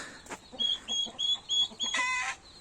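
Farmyard turkeys call out loudly in a string of repeated high, tonal calls, close by and alone, ending in a busier squawking burst.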